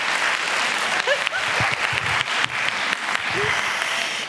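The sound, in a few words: audience applause at a conference workshop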